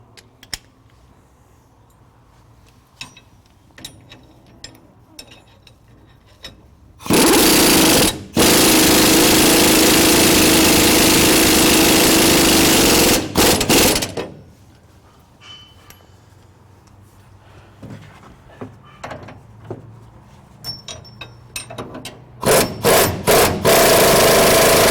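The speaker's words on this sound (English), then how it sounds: "we'll go ahead and tighten up the track rod bolts" Loud, continuous power-tool hammering while bolts are tightened on an SS800 trac bar track rod. It comes in two long bursts, the second dying into lighter clicks and clanks before short final bursts.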